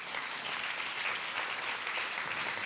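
A church congregation claps steadily and continuously, a dense even wash of hands heard at moderate distance for the whole stretch, with no voices on top.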